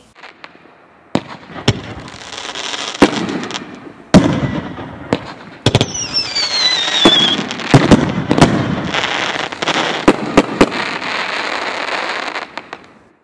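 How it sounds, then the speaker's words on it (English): Loud firework cakes fire a dense run of sharp booming breaks, with a rising whistling tail streaking through the middle and crackling bursts continuing nearly without pause to the end. "These cakes are both extremely loud with whistling tails and big booming breaks."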